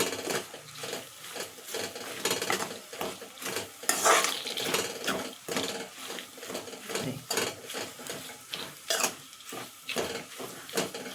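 Spoon scraping and stirring soya chunks (meal maker) into gongura chutney in a pan, with a steady run of rhythmic metallic scrapes and clinks, close and fairly quiet, with no talking.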